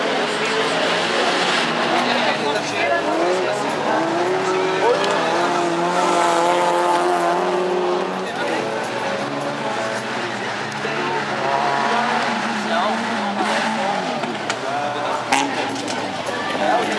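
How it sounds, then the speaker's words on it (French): Toyota MR2 rally cars, one red with a Honda engine and one white with a Peugeot engine, racing at a hill event, engines revving and shifting with tire noise, a commentator speaking over them throughout. "Toyota MRS rouge, moteur Honda, et la deuxième Toyota MRS blanche,"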